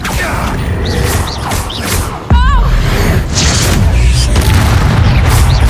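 A sudden booming blast from the Confringo spell in Hogwarts Legacy, with a loud low impact partway through amid busy combat effects and whooshes, then sustained rumble.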